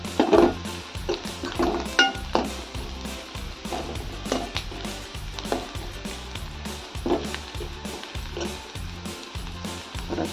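Onions frying in a pan for a traditional Maharashtrian wild greens dish, a steady sizzle with repeated stirring scrapes and soft utensil clinks at an even rhythm, close and moderately loud with no talking.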